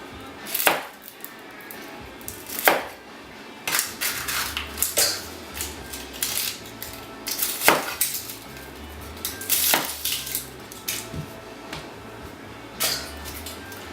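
Onions are chopped on a cutting board for chicken stock, with sharp knife thuds coming in uneven bursts and pauses, close and moderately loud, and no talking over them.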